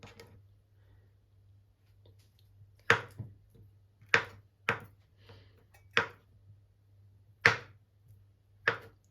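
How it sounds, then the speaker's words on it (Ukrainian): A knife cuts soft cheese into pieces on a board, with six or so sharp, separate taps at irregular intervals over a low steady hum, close up and without talk. "Сирочок нарізаємо на ось такі шматки"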